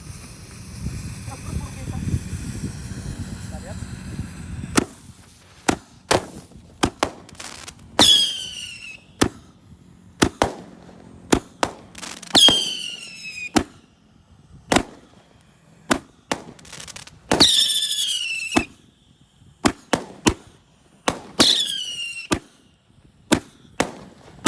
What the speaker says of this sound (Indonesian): Langsung saja kita nyalakan bosku. Family next 25 shot Roman candle box ini.